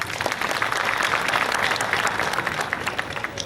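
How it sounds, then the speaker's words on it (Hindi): Audience at a poetry gathering clapping to welcome an honored guest, a continuous, busy patter of many hands that stays even throughout. "एक बार तालियां बजा दें।"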